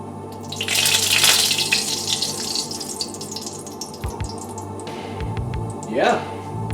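Water running from a kitchen tap, a steady rushing flow that is loudest early on and then settles into a softer trickle and drips, close by, with a voice speaking briefly under it.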